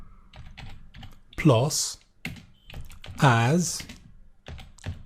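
Keys clatter on a computer keyboard while commands are typed into SQL Plus, scattered taps around a person speaking over them, fairly close.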